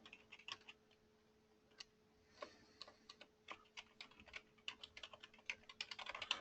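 Typing an email address on a computer keyboard, a run of quiet, irregular key clicks that quicken and crowd together toward the end, with no voices.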